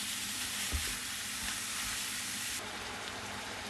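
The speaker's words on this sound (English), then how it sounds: "So as the sausage is cooking" Sausage sizzles and spits in a hot pan with a steady hiss, while a few soft knocks and clinks sound close by.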